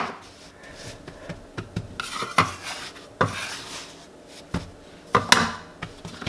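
Bread dough made from freshly milled flour is worked by hand, producing soft irregular rubbing, pressing and slapping noises against a work surface, with a few sharper knocks, close and fairly quiet, with no talking.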